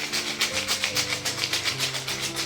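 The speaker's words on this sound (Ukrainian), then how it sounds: "маракас" Rhythmic rattling shakes of a maraca, a steady pulse of dry, bright rasping bursts repeated roughly every quarter second, close and alone.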